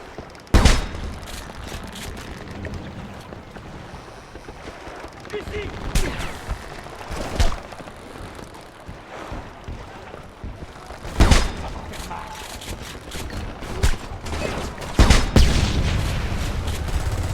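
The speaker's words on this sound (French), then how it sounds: "Encore des coups de feu!" Repeated bursts of gunfire in the video game Homefront, sharp loud shots scattered across the clip with a few clustered volleys, over a constant background of game ambience.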